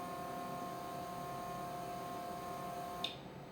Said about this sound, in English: you should hear the fuel pump run